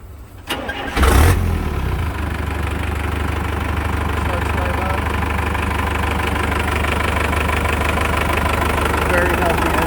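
A Toyota Land Cruiser FJ45 turbo diesel truck cranks briefly and fires up, then settles into a loud, steady, clattering diesel idle that continues for several seconds close by.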